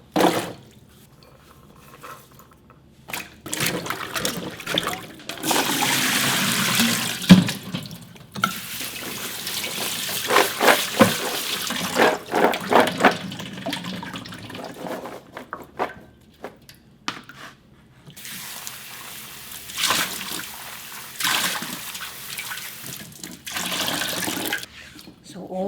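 Tap water runs into a sink while garlic scapes are rinsed and handled, a steady splashing stream in several bursts with pauses and some clattering, with talk over parts of it.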